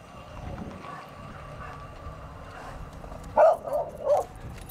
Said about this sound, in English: They got Bear barking at the high railer.